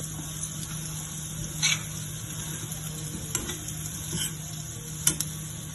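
Curry leaves tossed into hot oil with a potato and sesame fry, giving a soft continuous sizzle with a few faint clicks of a spatula, low and steady throughout.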